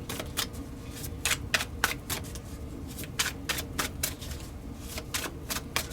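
Tarot cards being shuffled in rapid, uneven bursts of crisp flicking riffles, fairly close and steady, with a soft murmur beneath and no talking.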